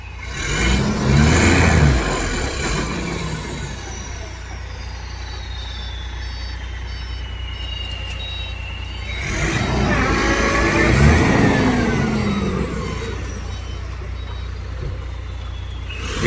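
A vehicle stuck in a hole reverses with repeated reversing beeps while its engine surges and revs in two strong bursts, with a steady low drone between them.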